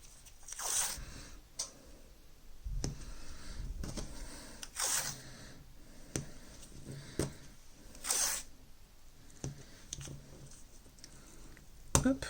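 Strips of masking tape torn by hand while sewing a pencil case, a handful of quick, crisp ripping bursts spaced a few seconds apart with soft handling noises between, close and quiet.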